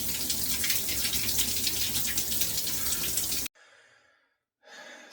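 Water from a cold shower pours steadily and loudly for several seconds, then cuts off abruptly, leaving brief dripping and a short splash afterward.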